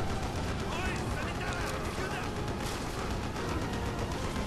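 Dense, continuous gunfire in the video game Call of Duty: Black Ops on Wii, loud and steady with no breaks, mixed with in-game voices.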